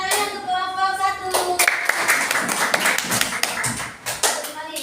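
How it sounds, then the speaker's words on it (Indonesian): A classroom of children claps for group 1 in a burst of dense, fast clapping that starts after a raised voice and continues loudly to the end, with scattered voices mixed in. "Beri tepuk tangan untuk kelompok 1."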